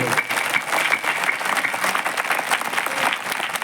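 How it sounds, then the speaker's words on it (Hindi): Applause from a crowd at a Ram Katha religious discourse, a continuous wash of clapping at moderate loudness with a faint tonal hum beneath, no voices. "तो एक बार सुंदर प्रेम से ताली बजाए सभी लोग।"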